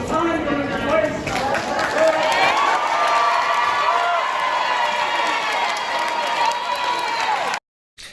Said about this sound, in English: the crowd began to cheer